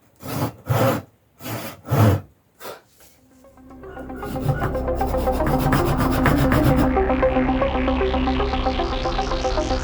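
A hand saw cutting wood for curtain rod holders: several slow, separate rasping strokes up close, then a fast continuous sawing rhythm that runs on steadily.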